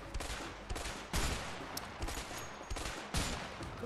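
Gunfire in the video game A Way Out: several sharp, separate shots and short bursts crack out at irregular intervals, fairly close, with a quieter background din between them.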